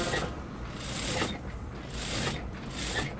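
A sewing machine stitches along the edge of a lined blouse in three short whirring, ratcheting runs with brief pauses between them, heard up close with no speech.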